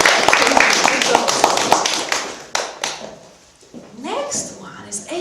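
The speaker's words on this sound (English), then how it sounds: "Let's give a round of applause to Oscar." Audience applause at a music school's winter recital: a burst of steady hand clapping lasts about three seconds, then fades, and a voice starts talking.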